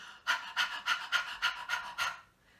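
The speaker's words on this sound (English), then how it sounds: "let's move the panting onto a ha, ha, ha, ha, ha" A singer in an online choir rehearsal pants rhythmically on a breathy "ha" as a breathing exercise, seven evenly spaced voiced pants, close and clear with no other talk.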